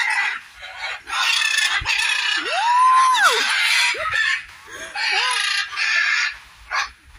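Parrots squawk close by at Konoko Falls, a string of loud, rising and falling harsh calls breaking through a steady rushing hiss, with short pauses between the cries.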